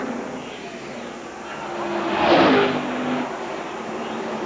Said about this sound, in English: Gordon is up on that back bumper right now. He's getting Ernie a little bit loose as he comes off these corners